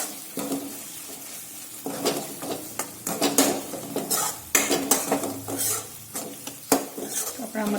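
Turmeric, garam masala and other spices are stirred into a hot pan for a spinach and chana dal curry, with loud, close spoon scrapes and clanks in an uneven rhythm over a soft sizzle.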